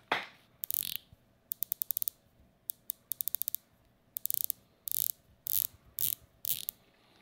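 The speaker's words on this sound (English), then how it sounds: "let me just take this watch off the wrist and hold it up to the microphone so you can get some bezel ASMR" The ceramic dive bezel on a GINAULT Ocean Rover 2.5 watch is turned close to the microphone. It gives bursts of crisp ratcheting clicks, some quick runs and some slower single clicks, with brief pauses between them and no talking.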